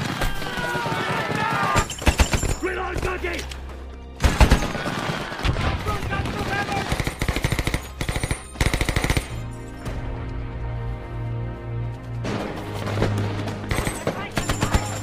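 Battle with Japanese soldiers in a jungle: bursts of machine-gun fire and scattered gunshots crackle loudly in rapid volleys, broken by short pauses and sustained tones, with some shouting mixed in.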